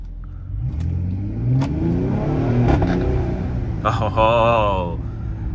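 A Mercedes GLE AMG Coupe engine in Sport Plus mode revs and accelerates with a deep rising rumble, loud and close, while someone speaks briefly near the end.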